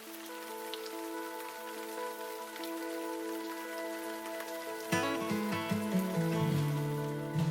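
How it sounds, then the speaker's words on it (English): Steady rain falling on a garden in Central Portugal, a soft continuous patter with a faint tonal hum underneath that grows a little busier toward the end. "It's been a rainy week here in Central Portugal"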